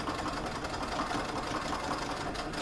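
A sewing machine stitches over a tote bag strap with a steady, fast mechanical whirr and needle clatter, close and continuous with no talking.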